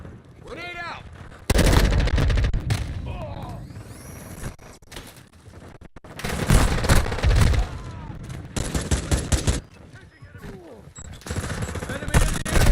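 Heavy video game gunfire from a multiplayer shooter, with bursts of loud, dense rapid shots in several clusters across the clip, mixed with short bits of game voice callouts.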